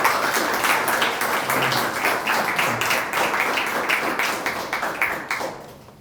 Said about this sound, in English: if you could give me a warm welcome and a round of applause for our guest speaker today